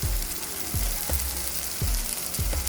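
Cluster beans palya frying in a pan with a steady, close sizzle and crackle, and soft scraping strokes of a spatula recurring every second or so.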